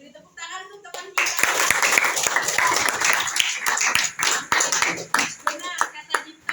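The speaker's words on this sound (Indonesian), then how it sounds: "Beri tepuk tangan untuk teman kita" Classroom of pupils clapping for a classmate, a sudden burst of many small hands that starts after a brief moment of talk and then tapers into scattered claps, with children's voices mixed in.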